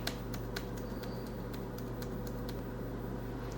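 Quick sharp clicks of the Delete key on a computer keyboard, tapped repeatedly in a fast rhythm over a steady low machine hum.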